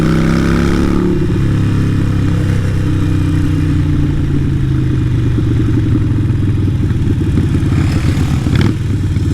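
A Harley-Davidson 883 Iron bobber fitted with a Vance & Hines exhaust rumbles loud and close, a deep throbbing engine note with a brief rev near the start and a steady heavy pulse throughout.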